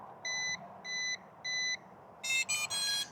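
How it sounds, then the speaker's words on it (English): A Gleesfun G11PRO drone connecting to its controller: three evenly spaced electronic beeps, then a quick burst of higher, brighter tones, close and clear over faint background hum. "the quicker it gets connected, the fewer beeps it beeps at us"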